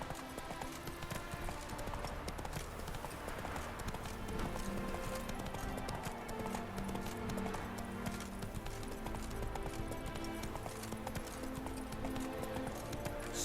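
A horse gallops in the video game The Witcher 3, its hooves drumming steadily under a constant wash of background game sound, moderately loud and unbroken.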